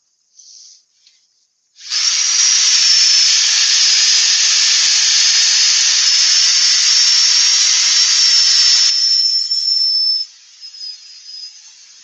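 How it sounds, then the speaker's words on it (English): A DeWalt drill fitted for sanding works over wood with a loud, steady high-pitched whine and rasp that holds for about eight seconds, then drops away to a fainter, uneven hiss near the end. "Now we're going to take up my my very own DeWalt drilly and take off some of this."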